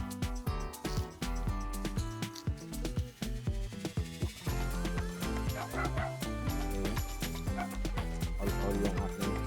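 Several dogs at a rural Filipino home bark and yip loudly and repeatedly, mixed into a dense, steady tonal background with no pauses.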